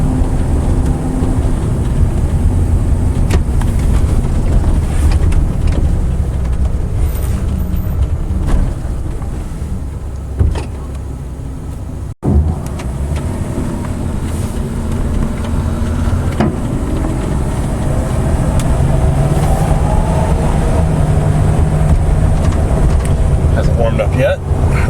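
A 1997 Coachmen Saratoga travel van on a Dodge B3500 chassis drives down an alley, its engine and road rumble steady throughout with a brief dip midway.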